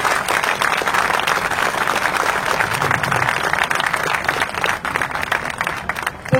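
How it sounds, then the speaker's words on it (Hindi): Loud, sustained applause from an audience at a political speech in India fills the whole stretch, dense and steady without a break. "जोरदार तालियां प्लीज"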